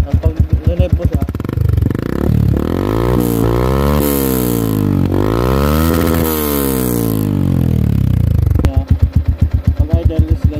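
A motorcycle engine idles with a steady low chugging, then revs up in long rising and falling sweeps before dropping back to a loud, close idle.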